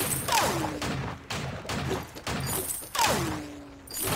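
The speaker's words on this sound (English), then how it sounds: "Nah, I'll just shoot all three." Rapid bursts of gunfire from the mobile game Vainglory's 5v5 jungle match, several shots fired in quick succession against a busy backdrop of game effects and music.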